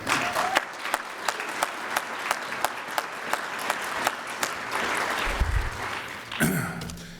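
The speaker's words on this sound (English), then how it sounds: "We applaud you" Gala guests in a banquet room applaud. Individual sharp claps stand out at a fairly regular pace over a softer bed of clapping, with a low thump and some rustling near the end.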